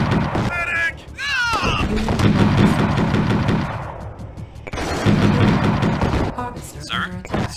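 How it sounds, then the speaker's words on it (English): Heavy gunfire and explosions from a GDI versus Nod skirmish in the strategy game Tiberian Sun Firestorm, dense and continuous and loud, with a brief lull in the middle, under short bursts of unit voice chatter. "I'm taking heavy fire."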